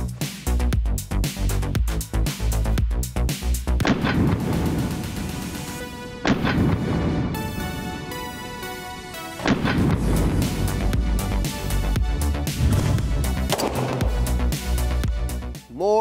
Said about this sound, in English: It barks, but 308, semi-auto, shooting offhand like this, it really helps control the recoil on this short gun.